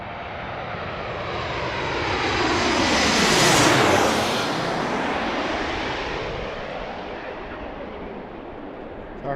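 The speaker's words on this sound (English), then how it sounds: "we got Alaska Airlines, a 737 MAX 8 coming in from Portland" An Alaska Airlines Boeing 737 MAX 8 arriving from Portland passes over Gravelly Point by DCA in Washington: a loud jet roar swells to a close overhead peak with a falling Doppler sweep, then fades into a long rumble.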